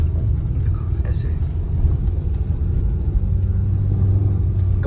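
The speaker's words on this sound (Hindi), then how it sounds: "गाड़ी थोड़ा लोड लेती है चढ़ने में, काफ़ी ज़्यादा चढ़ाई है" A car climbing a steep hill road near Jodhpur gives off a steady low engine rumble under load, close and continuous, with faint talk and road noise mixed in.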